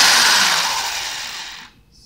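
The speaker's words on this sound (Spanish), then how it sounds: "prender el taladro para" A power drill spinning a brush to peel potatoes whirs loudly at close range with a high, hissing spin, then winds down and cuts off near the end.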